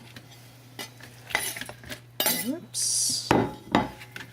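Cooked beef for vegetable beef barley soup is chopped with a knife on a cutting board: scattered sharp clacks and scraping knocks of the blade, close and fairly quiet, with a brief spoken word in between.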